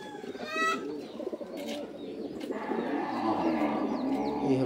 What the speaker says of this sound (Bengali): এই হলো কবুতরটা।